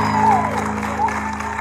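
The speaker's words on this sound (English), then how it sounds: "I like that virtual clap stuff you guys got going on." Virtual applause plays as a sound effect during a Hawaiian music livestream; a steady wash of clapping fills the whole short moment at fairly high volume, with a faint voice-like tone over it.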